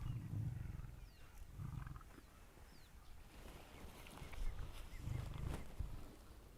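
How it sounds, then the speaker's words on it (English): Low, rumbling purr-like lion vocalizations repeating in slow pulses, deep and fairly quiet against an open outdoor background. "It's almost the lion equivalent of a purr."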